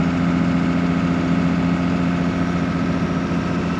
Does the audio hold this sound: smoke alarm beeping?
no